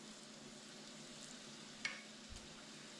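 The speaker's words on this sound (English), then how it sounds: "We're going to throw in our butter." Butter melts in a hot pan with a faint, steady sizzle and fry hiss, broken by one soft clink of a utensil, heard alone at low level.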